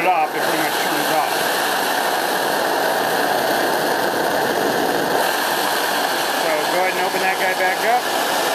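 An MSR liquid fuel stove burning at full flame gives a loud, steady roaring hiss, close and continuous throughout with no pauses.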